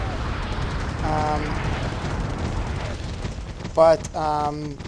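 Bradley autocannon fire and battlefield combat in Wargame: Airland Battle, with low rumbling explosions under the mix and short rapid bursts of cannon fire, including one sharp loud salvo near the end.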